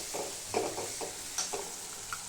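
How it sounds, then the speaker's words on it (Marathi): Chili powder fries in oil in a pan, with a quiet continuous sizzle broken by several soft stirring scrapes, heard alone. "मिरच पावडर पण तेलामध्ये चांगली फ्राय करून घ्यायची."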